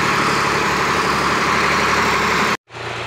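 A steady, loud tractor engine drones and rumbles continuously, then cuts out abruptly near the end before the low hum resumes.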